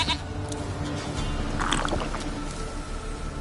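A goat in The Witcher 3 bleats amid a steady low background hum, with a few short cries and a louder call near the middle.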